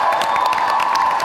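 A live comedy show audience claps and cheers in a loud, continuous burst of crowd noise, brief and close, with no clear talk over it.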